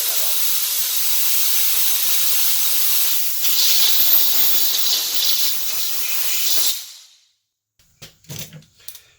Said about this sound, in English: So I'm going to just stick a blower in there and